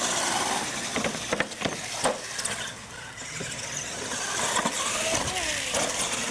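Dirt sport-mod R/C monster trucks race around a track, with motors whining and rising in pitch, interrupted by sharp clacks and thumps of landings and bumps, moderately distant and fairly quiet.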